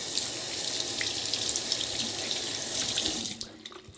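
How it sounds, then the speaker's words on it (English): Tap water runs into a sink while makeup brushes are rinsed, a loud, continuous hissing stream that cuts off abruptly near the end, leaving a few faint drips. "Rinse them off and make sure you wipe down the ferrule and the handles really well."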